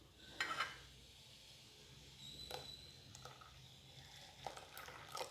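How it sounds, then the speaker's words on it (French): A whisk beats cake batter of oil, milk and eggs in a bowl, giving faint, scattered metallic clinks and soft scraping against the bowl in irregular bursts, close up and quiet. "Et je continue à fouetter jusqu'à ce que le mélange devienne mousseux"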